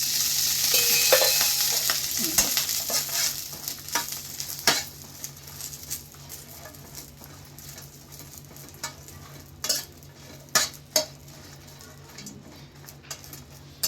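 Chili peppers fry in a little oil in a pan, a steady sizzle that fades over time, broken by occasional clinks and stirring knocks of a utensil against the pan.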